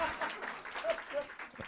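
Church congregation at an autumn evening revival service claps for its ministers, producing soft, uneven applause with voices murmuring over it.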